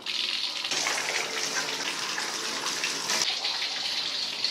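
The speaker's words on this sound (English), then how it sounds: "Turn the hot water on." A hot water tap runs in a steady, full gush. It starts abruptly and flows continuously, close up, while an electric tankless water heater is being diagnosed.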